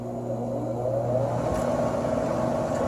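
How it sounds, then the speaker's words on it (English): An air conditioner compressor starts up with a steady close hum that swells into a constant droning whir, loud and alone. "Compressor started right away."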